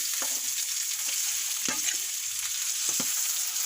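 Rice tipped into a hot pan and stirred, with a loud, dense frying hiss throughout and several short scraping, rustling strokes of a spatula moving the grains, close up and without speech.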